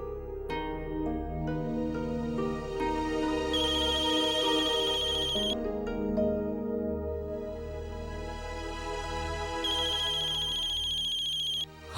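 A telephone rings on and on with an unanswered call, its melodic ringtone looping loudly and steadily for the full stretch with bright chiming phrases repeating, no voices heard.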